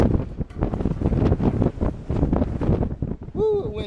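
Wind blows hard across an open spot in the Mojave Desert, a loud, rough buffeting against the microphone that pulses in gusts, with a short whistling tone near the end.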